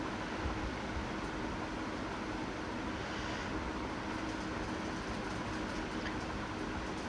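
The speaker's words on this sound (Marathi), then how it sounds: "थोडीशी जिरी घ्यायची आहे आणि छान असं वाटण करून घ्यायचं आहे." Mixer grinder blending green chillies, cumin and garlic cloves into a coarse paste, a steady dense whir running unbroken at full strength from start to finish.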